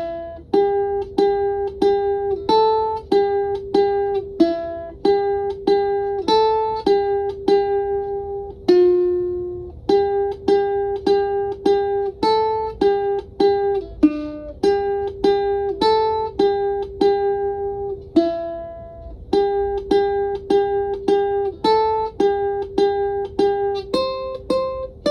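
Ukulele plucking a melody, a bright, close run of short picked notes and strums in a bouncy, steady rhythm with brief pauses between phrases, without any voice.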